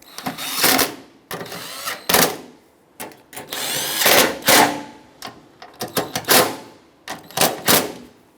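A power drill tightens the coolant tank mounting bolts on a 1999-2025 Ford E-350 in a string of short, loud, close bursts. Brief pauses separate each spin.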